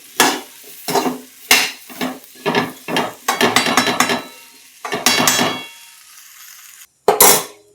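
Finely chopped okra is stirred in fried masala in a pan: a series of scraping, sizzling spoon strokes in uneven bursts, a pause, then one last loud stir, close and with no talk.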